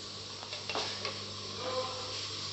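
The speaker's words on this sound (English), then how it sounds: "So now let the tomato puree be cooked." Tomato puree cooking in a pan, a faint steady sizzle and bubbling hiss with a few soft stirring scrapes and clinks near the start.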